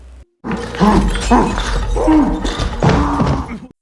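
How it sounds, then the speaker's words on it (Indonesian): Window glass smashed to break into a house, a loud crash with tinkling shards mixed with dog-like whimpering and yelping sounds, over about three seconds. "memecahkan kaca jendela untuk masuk ke rumah"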